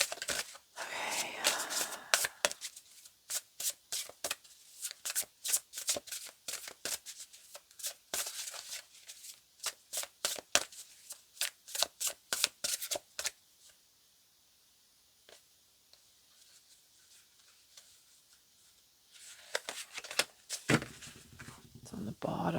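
Oracle cards being shuffled by hand: bursts of crisp riffling and flicking in quick clusters, with quieter gaps between, close up and without talk over them.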